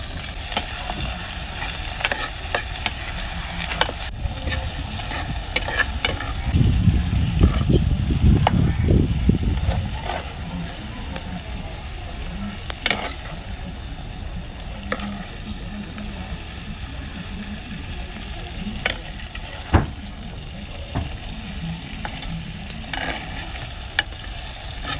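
Chopped tomatoes and green chillies sizzle steadily in a clay curry pot, with frequent spoon clinks and stirring scrapes. A louder burst of frying comes early on, then a quieter, even sizzle continues with no talking.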